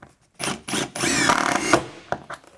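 Power drill driving screws snug into a Trusscore wall panel: two or three short whirring bursts, close and fairly loud, separated by brief pauses.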